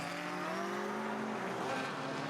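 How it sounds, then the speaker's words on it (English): A BMW Improved Production race car sliding through a corner exit at Hidden Valley during a 2019 race, its engine a loud, sustained drone with shifting pitch and faint tyre scrubbing throughout. "The rear of that car just sliding across the road out to the exit of the curb."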